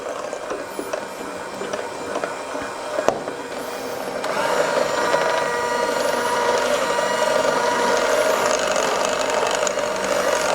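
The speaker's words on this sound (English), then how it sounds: "Oh, I so badly want to crank up this mixer, but I know what'll happen." An electric mixer beating confectioner sugar into chocolate fudge cake frosting, a steady whirring mechanical drone with rattling that grows louder midway as the speed is turned up.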